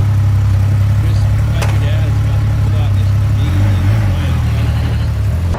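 Triumph motorcycle with a six-cylinder 2500cc engine, a loud steady low drone while riding, with brief wavering changes in pitch near the end.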